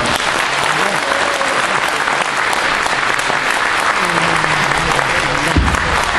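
A lecture audience applauds a journalist at a Korean event marking the 3.1 Movement anniversary, with loud, dense, steady clapping throughout and some crowd murmur underneath.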